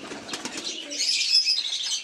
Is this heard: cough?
no